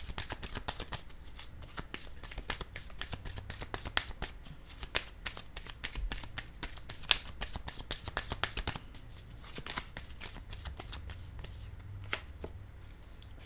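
Tarot cards are shuffled steadily for a reading, with a long run of quick, crisp riffles and taps up close at a soft level, and a faint voice now and then underneath.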